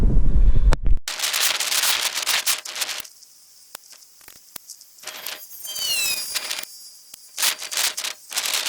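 Air rifle shots from an Artemis M11 .177 fired at a target 40 yards away: a string of sharp, short cracks spaced unevenly, with quiet gaps between them and bird chirps in the background.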